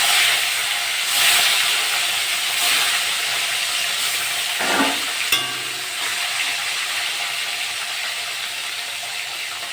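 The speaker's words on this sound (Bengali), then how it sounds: "বাকি মাছগুলো আমি একইভাবে ভেজে নেব।" Tilapia pieces fry in hot mustard oil in a home kitchen, giving a steady, loud hiss and sizzle with soft spattering throughout and a brief stir or flip midway. No one speaks.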